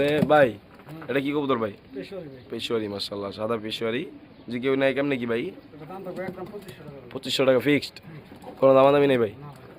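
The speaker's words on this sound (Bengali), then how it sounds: "এখানে আরেক জোড়া কবুতর দেখতে পাচ্ছি" Pigeons at a pigeon farm coo in repeated soft, throaty phrases close by, interleaved with voices talking nearby.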